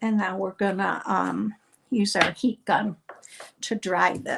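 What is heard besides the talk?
No everyday noises stand out.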